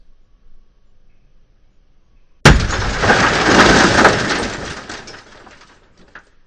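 After a quiet stretch, a sudden loud crash of an Ambassador car's window glass shattering, followed by a few seconds of tinkling, settling fragments that fade away.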